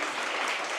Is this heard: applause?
yes